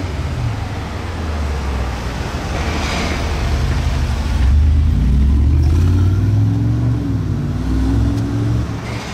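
An older Mercedes G-Class Brabus built on the G55 AMG, with a V8, rumbles close by, then revs up hard into a rising, sustained engine roar before easing off.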